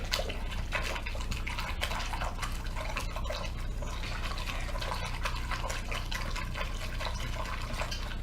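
Water pours steadily into a Mr. Beer fermenter keg, a continuous close splashing and gurgling fill with bright dripping texture throughout, no voices.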